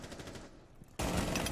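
Gunfire in a PC shooter match, with the last operator standing: a dense, loud burst of automatic fire that breaks in abruptly after a quieter stretch of scattered shots.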